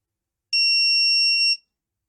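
A single steady electronic beep, high-pitched and clean, lasting about a second against silence.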